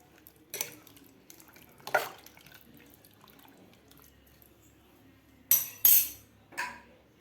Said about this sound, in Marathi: आता आपल्याला हे व्यवस्थित हलवून घ्यायचं आहे